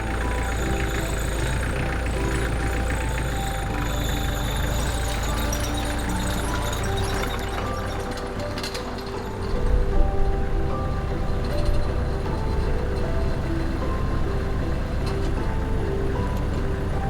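A Kubota tractor carrying an offset spray boom runs continuously at a steady, loud drone with a low rumble, a brief surge partway through, and no talking.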